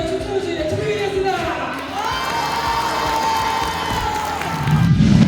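An audience at a lecture performance cheers and shouts loudly in a sustained burst, with high-pitched whoops rising over the din, which swells again at the end.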